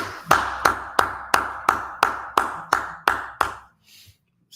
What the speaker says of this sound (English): Let's go ahead, clap it up